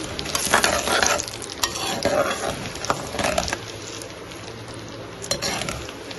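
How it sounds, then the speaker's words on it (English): Mustard seeds and dal splutter in foaming cold-pressed oil for a coriander pachadi, a loud crackling sizzle broken by sharp pops and the clink and scrape of a stirring spoon. "Let the mustard splutter, and also this dal get brown in color."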